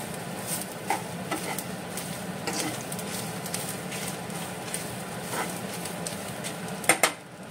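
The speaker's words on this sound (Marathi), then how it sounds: "कोथमिरीचे ताका मिक्स करून घेता." Coriander being stirred into a mutton xacuti curry in a pan, soft continuous stirring and light sizzling with a few scrapes and two sharper knocks near the end.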